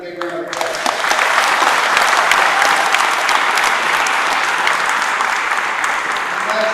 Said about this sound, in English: So let's give Don Martone another big round of applause.